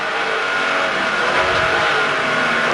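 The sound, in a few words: Porsche race car engine on track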